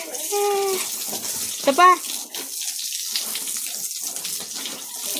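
Tap water runs and splashes while a pet pig is bathed to cool off in hot weather, a continuous gushing flow with a couple of short, pitched vocal cries and brief speech over it.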